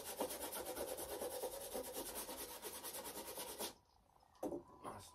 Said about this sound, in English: Get your chalk and rub the back of what you want with the chalk.